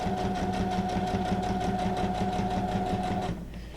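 A sewing machine stitching through junk journal pages, running at a steady fast rapid clatter with a constant motor hum, then stopping abruptly near the end.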